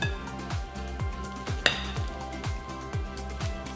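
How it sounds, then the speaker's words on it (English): A spatula folds tres leches cupcake batter in a bowl, producing soft rhythmic swishing strokes roughly twice per second, with one brief sharp clink midway and no talking. "So we're just gonna keep folding until everything is combined"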